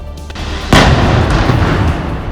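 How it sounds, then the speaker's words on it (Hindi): A sudden loud blast as gas cylinders explode in a warehouse fire, followed by a sustained roaring rumble of noise, heavy and close. "गोदाम में रखे हुए सिलेंडर एक के बाद एक फटने लगे"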